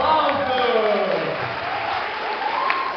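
An audience in a theatre applauds a performer introduced as the star of a youth church program, steady dense clapping filling the room with some voices mixed in.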